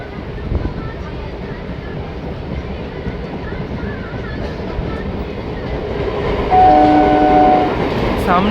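Rampurhat-Jasidih MEMU passenger train pulling out of a hill station in Jharkhand during rain, a continuous rumbling roar of wheels and rail that grows louder, with a horn sounding briefly near the end.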